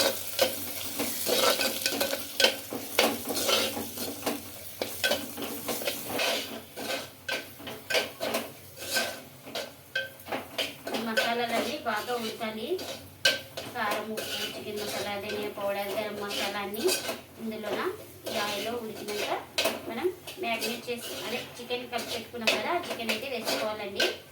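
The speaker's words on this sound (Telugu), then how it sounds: "ఇవన్నీ వేసి బాగా కలుపుకోవాలండి" Chicken with garam masala and chicken masala is stirred in a clay pot, a continuous scraping and sizzling with frequent knocks of the spoon against the pot, while someone talks over it.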